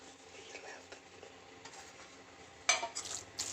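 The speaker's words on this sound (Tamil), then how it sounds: "நல்லா மிக்ஸ் பண்ணி விட்டுக்கோங்க" Curd rice with coriander leaves is stirred and mixed in a bowl: soft scraping and mixing, then a few sharper spoon clinks near the end, with faint low voices underneath.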